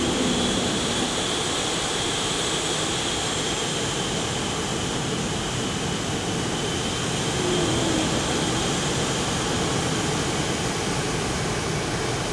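Two jet aircraft taxiing in a combat flight simulator game, a loud steady engine roar and whine that holds unbroken throughout with no change in level.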